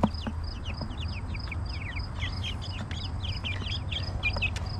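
Backyard homestead chickens cluck and chirp in a steady flurry of short, high calls, close and moderately quiet over a low background hum.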